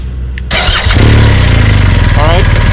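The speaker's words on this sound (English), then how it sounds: "Engine on." A BMW R 1250 GSA motorcycle engine cranks and catches, then settles into a loud, steady close-up idle with a rhythmic throb.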